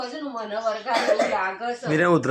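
A single cough bursts out amid close, lively talking and chuckling voices.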